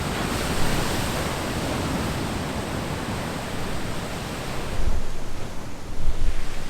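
Ocean waves surge and wash through coastal rocks on Madeira, a steady roaring broadband rush with louder swells building near the end, close and loud with no voices.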